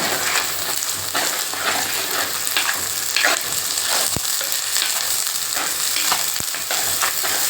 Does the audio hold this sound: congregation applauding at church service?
no